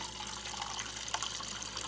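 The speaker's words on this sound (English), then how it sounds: "Draw water until you get clear water." Water runs steadily from the dispenser of an LG refrigerator through a newly installed filter, a continuous close hiss of flowing liquid with a small splash near the end.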